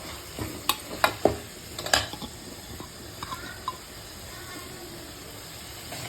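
Grated tomato goes into a village-style mutton curry, with scraping stirs and clinks against the pot over a soft, steady sizzle, busiest in the first two seconds and then settling to a quiet simmering hiss.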